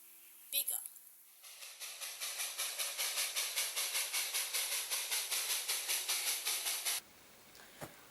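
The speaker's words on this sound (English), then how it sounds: "Oh, steam." A model steam engine hisses in steady, rhythmic pulses of steam for several seconds, close and even, after a brief clank, then stops abruptly.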